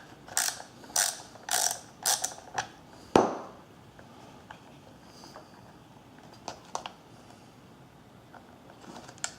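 A ratcheting tool clicks through several short bursts while removing a T8 screw from a Volkswagen door lock module, followed by a sharp snap, then sparse quiet clicks and handling noises nearby.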